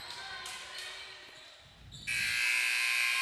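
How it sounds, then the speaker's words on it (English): A loud, sustained electronic final buzzer at a basketball game blares over crowd noise and an announcer's voice, holding steady until the end. "And there is the final buzzer."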